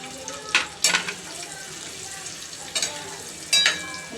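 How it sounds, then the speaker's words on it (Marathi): Eggs fry in masala in a pan, a soft continuous sizzle with a few sharp spatula scrapes and taps standing out near the start and end. "याच्यामध्ये अंडे फ्राय करून घेऊया."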